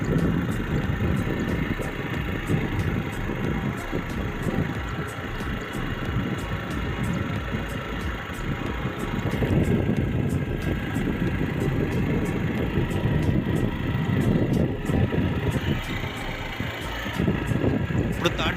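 A motorcycle engine runs steadily while the bike is ridden in second gear with its accelerator cable cut, producing a continuous, fairly loud, even drone for the whole stretch.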